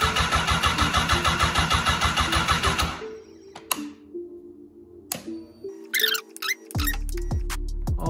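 A 2019 Honda CBR1000RR motorcycle engine being started after a rebuild; a loud, rough, pulsing run lasts about three seconds and then cuts out, followed by scattered clicks and a low hum.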